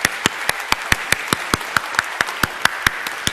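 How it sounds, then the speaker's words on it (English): At a policy talk event, an audience claps for the speakers in a short round of applause made of sharp, evenly spaced claps, close and fairly sparse, like a small group. "So let's have a round of applause for our speakers present and absent."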